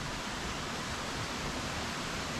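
Steady, dense roar of falling water from a waterfall at Curug Cihurang, close by a campsite at its edge, filling the whole span as a continuous broadband wash with no voices.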